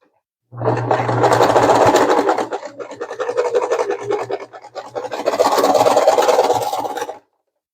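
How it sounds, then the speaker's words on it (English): A sewing machine runs a second stitch line along the edge of a sunflower crossbody bag. It sounds as a close, loud whirring hum in two long runs, with a short slower patch between them. "I'm also going to make another stitch line to really seal in those edges."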